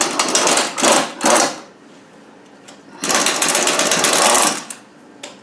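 A powered socket spins bolts out of the pressed steel sump cover on a 2.6 NADA 2a gearbox. It gives three short, loud, rattling bursts, a pause, then one longer burst, all close up with no talking.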